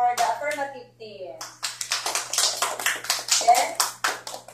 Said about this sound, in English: So let's clap our hands for the affirmative team.